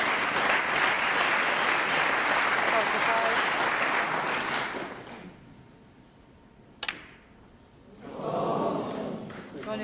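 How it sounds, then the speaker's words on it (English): A crowd at a snooker match at the 2014 Welsh Open applauds, a loud sustained clapping that fades out, then a sharp click, then a brief burst of voices and clapping from the crowd. "Round of applause from the crowd."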